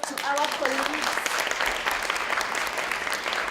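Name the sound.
audience applause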